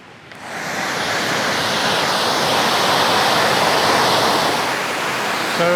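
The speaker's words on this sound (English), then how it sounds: "Now let's go and see the waterfall." Water pours over an old stone dam on the Braamfontein Spruit, a steady, loud, close rushing roar that swells in after a brief quiet start and holds constant.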